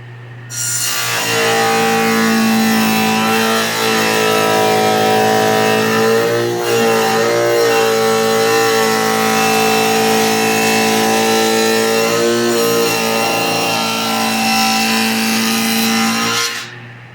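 A power tool cuts dados into wood for a bookcase cleat and bottom, a steady, loud whine running continuously for about fifteen seconds with slight dips in pitch partway, then stopping.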